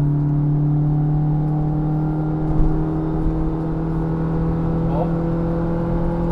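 Fiat Palio 1.0 Century from 2002 driving, its small engine humming with a steady drone and a faint rise in pitch, heard from inside the car, with a brief voice at one point.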